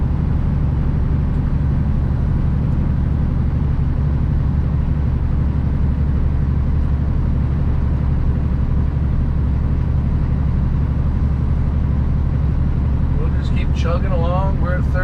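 A heavy semi truck engine labours steadily in 9th gear at about 1,400 RPM and 33 mph while climbing Copper Canyon, a loud, continuous low drone from inside the cab, with a faint squeak near the end.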